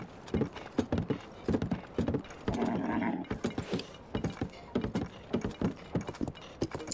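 Horse hooves clip-clopping in Zelda: Tears of the Kingdom, a steady rhythmic trot with a short burst of rustling in the middle, moderately quiet and without talk.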